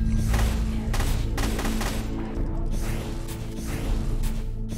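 Gunfire in the video game ORION: Dino Beatdown, with dense clusters of rapid shots and mechanical thuds over a loud, steady background rumble, and no voices.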